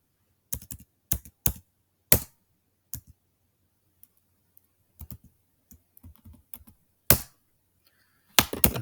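Someone types on a computer keyboard at a Linux login, producing sharp, close, irregular bursts of key clicks separated by short silences.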